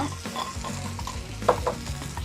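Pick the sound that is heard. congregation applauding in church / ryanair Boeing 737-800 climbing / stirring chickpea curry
stirring chickpea curry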